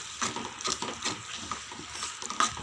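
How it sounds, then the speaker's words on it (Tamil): Turmeric and spice powders sautéing in a pan for a fish curry, a soft steady sizzle with faint stirring scrapes, close and quiet, with no talking. "பொடியோட பச்சை வாசனை போகிற வரைக்கும் நல்லா வதக்கிக்கலாம்."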